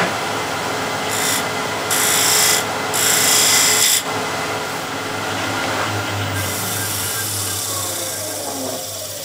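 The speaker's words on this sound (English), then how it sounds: "I can finish it with the spindle gouge." A spindle gouge cuts into a turning workpiece on a wood lathe, a continuous scraping hiss over the lathe's steady hum, with a few brighter, harsher bursts of cutting early on before it eases off.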